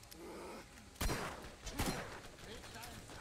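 Two sharp, loud shotgun blasts in the video game Borderlands, about a second apart, booming over steady background noise and faint voices.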